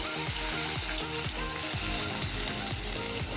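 Onions and green chilies fry in a little oil in a kadai with a steady, even sizzle throughout, while a repeating melodic pattern plays underneath.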